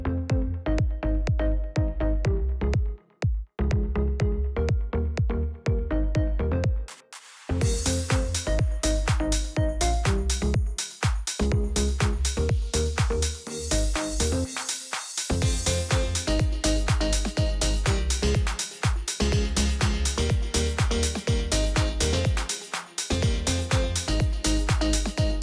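A dance-pop remake plays loudly with a pumping bass line and steady beat, briefly dropping out a few times before the full mix returns.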